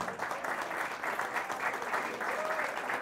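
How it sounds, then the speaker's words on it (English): Steady audience applause for a company president fills the room at moderate distance, an even wash of clapping without breaks. "A round of applause for our president, Chris Erickson."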